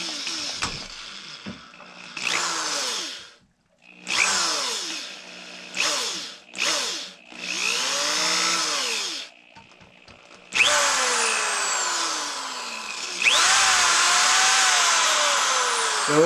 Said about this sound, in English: I want to be careful not to drill all the way through.